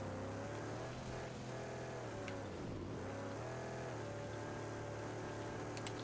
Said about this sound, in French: le bruit de moteur des fois qui me fait ce jeu